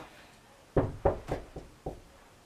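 Five sharp knocks on a door, a fairly close, distinct cluster of evenly spaced raps followed by one last knock after a short pause, with no talk over them.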